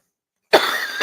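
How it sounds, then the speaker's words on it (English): A single hard, harsh cough bursts out after half a second of silence, followed by a short second cough at the end. "My coughing is starting to get out of control."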